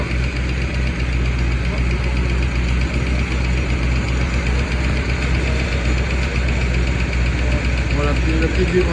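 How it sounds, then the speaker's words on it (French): A Renault 16 TS engine idles steadily after a long layoff, with a faint rattling vibration from the rear silencer clamp vibrating on the exhaust pipe, continuous and close. "la petite vibration qu'on entend, c'est le collier du silencieux derrière qui vibre sur le tube"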